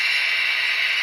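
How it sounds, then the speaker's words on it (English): Brake noise heard as a loud, steady hiss of rushing air that holds evenly for about a second, with no voices. "here's the brake noise"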